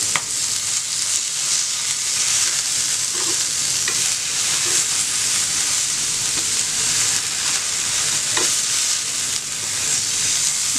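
Fish grilling in a pan without oil after being flipped, a steady close sizzle with scattered crackles and soft scrapes throughout, no talking.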